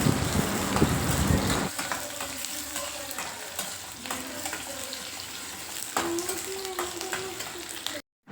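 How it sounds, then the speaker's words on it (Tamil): Shallots, garlic and green chillies sauté in a pan for a fish curry, giving a steady sizzle and frying crackle with stirring scrapes and utensil clinks close by. "நல்லா ஒரு மூணு நிமிஷம் நல்லா வதக்க விட்டுடலாம்"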